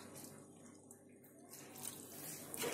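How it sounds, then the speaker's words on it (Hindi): Water is poured into a mixer-grinder jar holding soaked rice and dal for idli batter, a steady close splashing trickle lasting a few seconds with no talk. "और इसमें थोड़ा पानी डालें"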